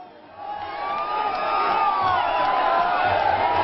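A large, dense crowd cheers and shouts continuously as Prime Minister Modi arrives in Kochi, Kerala, the roar swelling after the first half second and staying loud and sustained, with scattered whoops rising above it.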